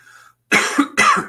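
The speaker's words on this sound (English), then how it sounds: "I have a moment to cough here" Two sharp, close coughs in quick succession after a faint murmur.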